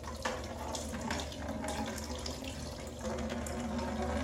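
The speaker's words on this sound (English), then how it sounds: "release the seal, and the water starts coming out the bottom" Water gushes steadily from aquarium siphon tubing into a container, a continuous splashing, gurgling flow at close range with no speech.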